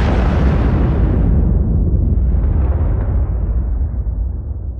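A powerful explosion roars loudly from the start, a dense rumbling blast that holds for several seconds and then slowly thins and fades toward the end.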